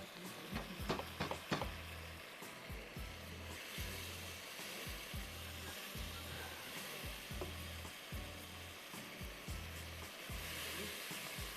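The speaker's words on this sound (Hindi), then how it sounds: "अच्छी तरह भूनें मसाले को" Spice masala with coriander powder and salt sizzles steadily in a hot pan, a continuous close frying hiss with soft stirring scrapes throughout, no one speaking.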